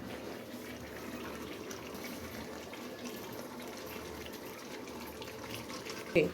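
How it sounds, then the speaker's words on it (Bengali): Water pours steadily into a cooking pot of chickpea lentil curry with chicken feet, skin and potatoes, a soft continuous gushing close by that ends with a brief clunk. "এবার জল দিয়ে দেব"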